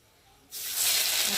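Ginger paste hitting hot oil with frying cumin seeds, a sudden sharp sizzle bursting in after half a second of quiet and swelling into a steady loud hiss.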